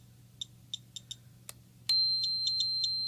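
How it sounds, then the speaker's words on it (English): A pocket Geiger counter's piezo alarm chirps in short, sharp, high beeps, first in a sparse irregular series, then a steady continuous tone with more beeps over it after two clicks. "there's the alarm going off with the sound and the LED"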